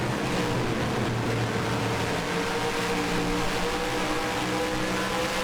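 Sustained racing car engine drone from a video game, a steady, even hum of motor noise held at constant pitch and moderate level, with no talk.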